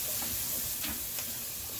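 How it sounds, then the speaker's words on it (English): Onion and celery hitting a hot jambalaya roux in the pot, giving a steady, close broadband sizzle and steam hiss with a few faint clicks from stirring. "we'll go ahead and start adding in our vegetables. There we go. Get that steam kicking up."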